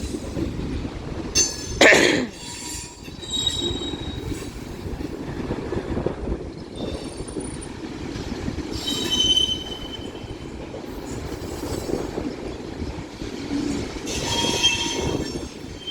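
A long BNSF mixed freight train rolls past a Central Avenue crossing with steady rumbling rail noise, a sharp burst of wheel squeal near the start and further squeals later on; no talk is heard.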